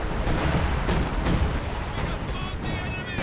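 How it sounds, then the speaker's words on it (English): Artillery and gunfire boom in Company of Heroes 2 amid dense, continuous battlefield rumble. A voice speaks over the barrage. "Dish out hell! Our artillery."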